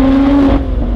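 A Lotus Exige Sport 380 engine drones loudly and steadily through a corner at part throttle, a strong close tone with a slight dip in level midway, and no voices.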